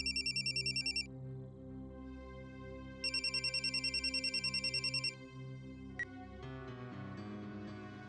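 A telephone rings in two bursts of rapid electronic trilling, separated by a pause, over a low background music bed, with no talking.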